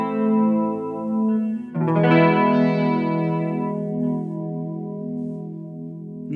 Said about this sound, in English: I'm going to turn that off and turn on the micro chorus now.